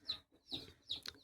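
Faint, brief clucks from black chickens, hens and roosters, three short bursts in quick succession with a little background noise.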